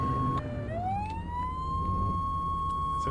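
A fire engine siren in the video game Flashing Lights winds up from a low pitch and settles into a steady, high electronic tone, loud and continuous over a low engine rumble.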